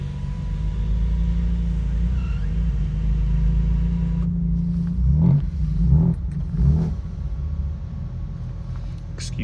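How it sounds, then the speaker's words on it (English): A car engine rumbles steadily at close range, then, after a brief shift, gives several short revs that swell and fade before settling back to a low idle. "Excuse neighbours starting up noisy car."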